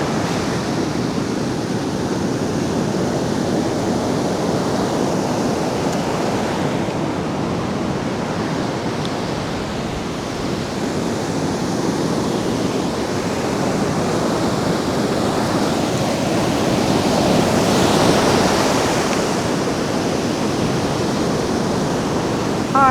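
Ocean surf rolls steadily onto a beach during a walk, a continuous broad wash of breaking waves with some wind buffeting the microphone, no voices.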